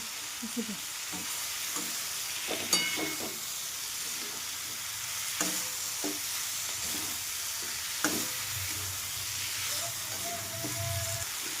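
Eggplant sabzi frying in a pan with little oil, giving a continuous soft sizzle and hiss, with scattered scraping clicks from stirring, close by and no talking.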